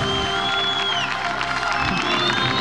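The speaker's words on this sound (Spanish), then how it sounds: "¡Fuerte el aplauso para él!" A studio audience on an Argentine TV entertainment show claps and cheers for the arrival of a footballer, a dense, continuous burst of applause with shouts and whistles over the top.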